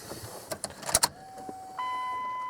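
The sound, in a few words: truck fuel pump priming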